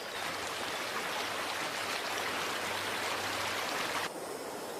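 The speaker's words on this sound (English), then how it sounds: "This is the Khaeng River." Full, steady rush of the Khaeng River flowing through a wildlife sanctuary in Thailand, a dense continuous hiss of moving water that drops slightly in level near the end.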